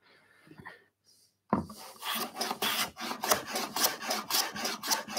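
Hand plane trimming a wooden mitre on a shooting board: after a brief quiet start, a series of rhythmic rasping strokes follows, close and distinct.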